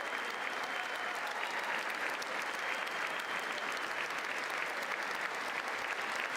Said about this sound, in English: all of them seem to be standing and applauding